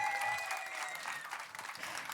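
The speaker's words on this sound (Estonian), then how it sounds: "aplaus talle!" Children's audience of kindergarten to fourth-grade pupils at an event clapping, brisk lively applause heard from a slight distance, with a faint whistling tone over it.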